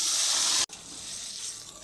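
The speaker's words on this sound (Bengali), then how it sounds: "বাগার দেওয়া হয়েছে আম্মু?" Spices sizzling in hot oil during tempering (bagar): a loud, bright crackling hiss that cuts out abruptly partway through, then settles into a steadier, softer sizzle.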